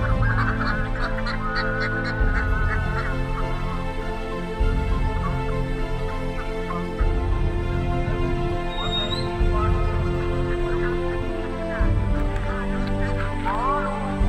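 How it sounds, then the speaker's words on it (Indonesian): Ducks on a duck farm give a continuous chorus of honking quacks, dense and fairly loud, recurring in waves with a faint voice now and then beneath. "bebek yang sudah masuk"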